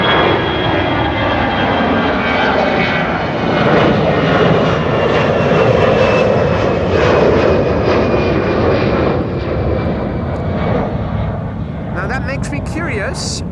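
Boeing 747 jet of Martinair or KLM taking off at Amsterdam Schiphol Airport, a loud, sustained engine roar with rising whine that swells and then slowly fades, voices talking over it near the end.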